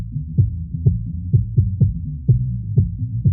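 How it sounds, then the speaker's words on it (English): Raw disco bass line sample, deep and low with a steady bouncing rhythm of repeated plucked notes, loud and alone, with no talk. "But now you can hear just the raw bass line underneath there."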